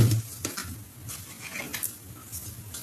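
Tarot cards cut and shuffled by hand, a few soft papery slaps and riffles close up against a quiet room, with no talking.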